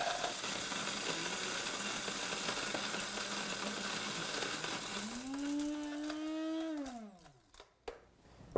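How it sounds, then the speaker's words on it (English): A small electric coffee grinder milling spices whirs loudly with a rising motor whine, holds briefly, then spins down abruptly, followed by a few clicks. "bring it right over here to our little coffee grinder"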